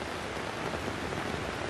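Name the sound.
rain falling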